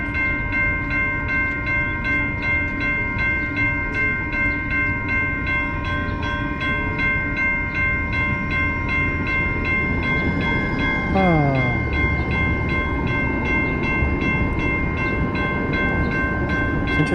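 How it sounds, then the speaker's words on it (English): A train comes through, its steady horn holding several sustained tones over a heavy rumble for the whole stretch, close and loud, with a brief sweeping squeal midway and a voice briefly heard. "It's interesting when a train comes through."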